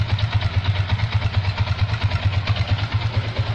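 A motorcycle engine idles while being checked for overheating and radiator coolant loss, a close, even pulsing thump with light mechanical clatter, steady throughout and without talk.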